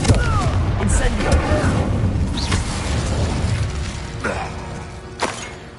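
Confringo and Incendio spells are cast in a video game, throwing out crackling fiery bursts and sharp whooshing blasts that flare several times over a dense, rumbling backdrop, with a voice speaking among them.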